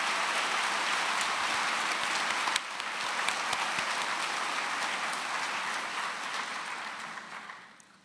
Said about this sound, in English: let's give our faculty and staff a round of applause